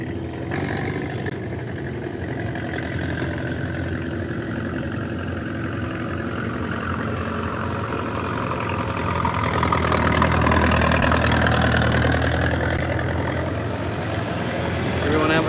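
An antique International 460 tractor engine idles at an outdoor tractor pulling event, a steady low, throbbing rumble that swells louder midway and stays constant and near.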